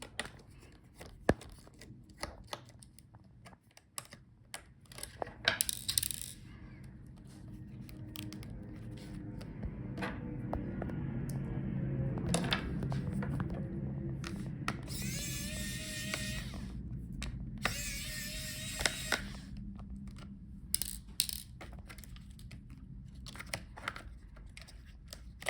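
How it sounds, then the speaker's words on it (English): A T5 Torx screwdriver backing small screws out of a Dell Precision 5690 laptop during a teardown: faint, sparse clicks and ticks over a low room hum, with a few brief louder rustles and scrapes. "Now we need again the T5 Torx screwdriver."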